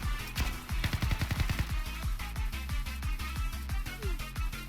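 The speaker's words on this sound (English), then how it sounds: "I could hear gunfire just now" Video game gunfire in Blue Archive, rapid bursts of sharp repeated shots in quick, fairly regular rhythm, moderately loud and continuous with no voices.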